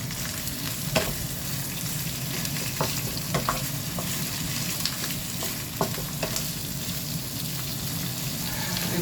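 Chicken sizzles and fries in a hot pan for a birthday dish, a steady dense crackle close by with occasional sharper pops and scraping stirs, no talking.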